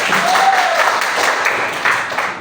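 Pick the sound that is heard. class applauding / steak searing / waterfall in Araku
class applauding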